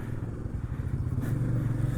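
Royal Enfield motorcycles, a Himalayan, two GT650s, a Super Meteor and a Meteor, rumble on a group road ride from Goa to Pune, a steady low engine drone with a slight rise partway through and no voices.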